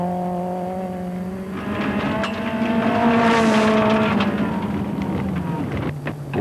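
Rally car engine revving hard up to the rev limiter on a rally stage, a loud sustained rising engine note with strong harmonics that builds, holds near peak, then drops away toward the end.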